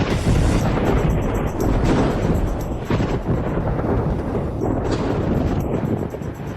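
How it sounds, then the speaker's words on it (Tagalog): Thunder after lightning, a loud, continuous deep rumble with rolling swells and cracks, dense and booming throughout the scene. "Saan nanggaling ang kidlat ng langit?"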